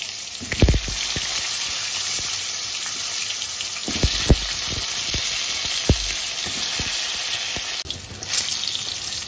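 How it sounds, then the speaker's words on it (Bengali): Pointed gourds (potol) deep-fry in turmeric-tinged oil in a wok, giving a steady close sizzle broken by a few sharp clinks and pops. "একবারে ডিপ ফ্রাই করে ভেজে নেব।"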